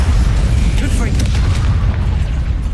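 In Hogwarts Legacy, a Confringo explosive spell goes off as a heavy, booming blast. A loud, deep rumble fills the whole moment and fades only slightly toward the end.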